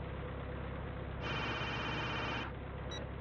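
A telephone rings once in a film scene, a short electronic tone lasting about a second over a low background hum, with no talking during the ring.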